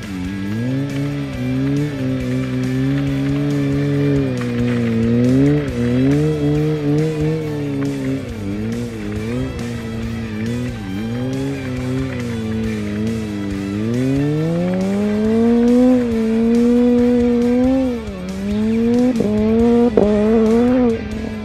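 A supercharged Kawasaki Z H2 naked motorcycle accelerates hard, its engine loud and close, pitch climbing repeatedly through a series of gear changes before a long sweeping rise, with no talk.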